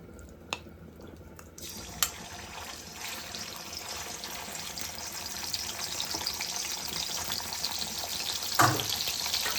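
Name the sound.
frying sardines in oil in a pan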